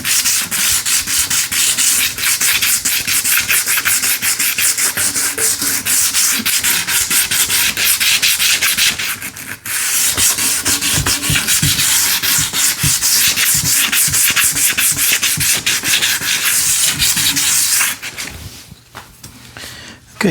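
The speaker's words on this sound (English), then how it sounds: "And I'm gonna sand it a bit here." Hand sanding of a glossy plastic window pane from a barn window rehab produces close, rhythmic scratchy back-and-forth strokes, with one brief pause midway and a tapering off at the end.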